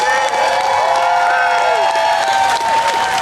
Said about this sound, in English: Everyone, let's give Commissioner Free a round of applause.